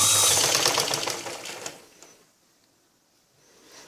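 Sewing machine stitching blouse fabric in a loud, rapid run for about two seconds, then stopping into near silence with faint background noise.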